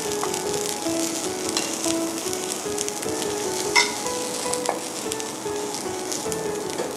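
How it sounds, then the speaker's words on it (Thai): Vegetables, including bok choy, sizzle and crackle steadily in a hot pan alongside grilled pork, a loud continuous fry with occasional pops and utensil clinks, no talking. "วางผักลงไปนะคะ"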